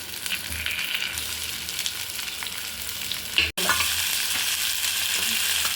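Onions and tomatoes sauté in a pan for a fish curry, producing a steady, close hiss and crackle throughout, with a brief knock partway through.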